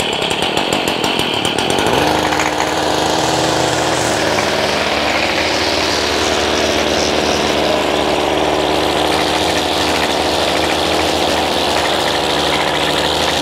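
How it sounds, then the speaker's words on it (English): A gas string trimmer runs loud and close, its engine whining steadily at high revs as it cuts grass tight against a rock border, with a short rough start followed by a sustained buzzing drone. "he just puts the string trimmer right up against them, and it gets the grass real good"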